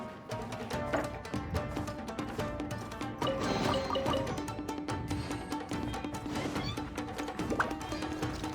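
A hungry cat meows several times against busy, clattering Genshin Impact game sound and music that run throughout.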